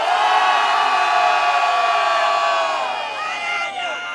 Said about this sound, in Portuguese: faz barulho, bate palmas!